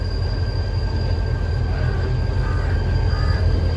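A train pulling out of a station in Pakistan on a pilgrim special service gives a steady low rumble of wheels and cars, with a faint high squeal above the constant drone.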